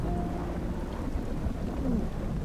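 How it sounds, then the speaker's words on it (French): Steady rain pours down under a grey cloud, a dense, even hiss with a low rumble running beneath it throughout. "Oh non, il pleut!"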